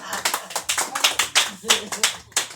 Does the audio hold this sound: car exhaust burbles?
no